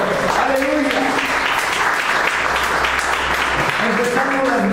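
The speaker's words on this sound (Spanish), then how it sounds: "Denle una ofrenda de palmas a nuestro Señor." A church congregation applauds with a steady, loud wash of clapping that fills the whole stretch, voices and music weaving underneath.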